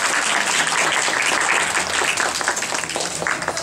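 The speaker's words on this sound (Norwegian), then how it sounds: "Så applaus til alle sammen som møtte opp og spilte en kamp." Audience applauding the players after a cricket match, dense close clapping from many hands continuing steadily with no voices over it.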